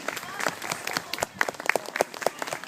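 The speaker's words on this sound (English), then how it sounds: "we can give our elephants and keepers a round of applause for a job well done this afternoon" A zoo audience claps for elephants and their keepers after an afternoon scatter feed, a modest, uneven patter of hands with separate sharp claps standing out, fairly close and short-lived.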